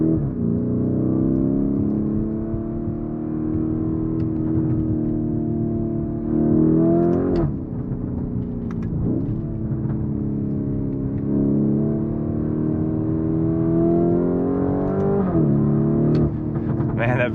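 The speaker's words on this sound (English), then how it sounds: "Man, that V8 is so intoxicating." A 2024 Lamborghini Urus S with a V8 engine drones steadily under a cruise, with deep layered harmonics that swell as the revs climb briefly twice. It is loud and continuous, heard from inside the car.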